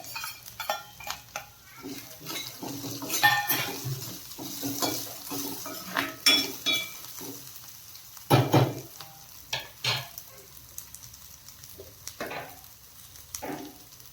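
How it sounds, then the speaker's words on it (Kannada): Chopped cashews tipped into a pan and stirred with a utensil, giving repeated scraping and clinking strokes of metal on cookware with light sizzling underneath, close and irregular. "ಈಗ ಇದಕ್ಕೆ ಗೋಡಂಬಿ ಕಟ್ ಮಾಡಿಟ್ಟಿದ್ದೇವಲ್ಲ ಅದು ಹಾಕುವ"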